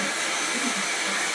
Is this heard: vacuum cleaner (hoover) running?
yes